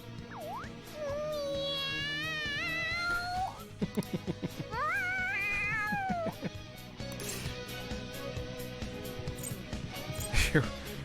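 Morgana the cat from the video game Persona 5 Royal meows loudly and excitedly, a string of long, rising and wavering cries over game music, with someone talking over parts of it.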